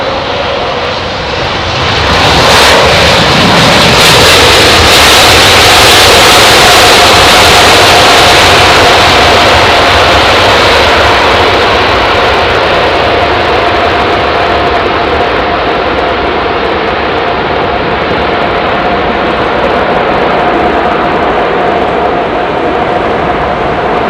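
A jet airliner's engines wind down after a low-visibility landing at London Heathrow: a loud, close roar that stays broad and steady and slowly eases, with a faint whine held throughout and no talking.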